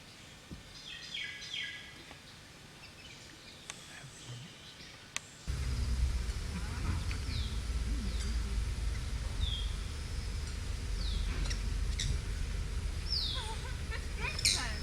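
Wild bird calls in a Papua New Guinea forest, a few high chirps and whistled notes scattered across the clip, faint at first and then over a louder steady rumble of ambient noise.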